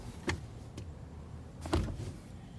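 Two short mechanical clicks about a second and a half apart, close and quiet, as a van seat latch snaps into place.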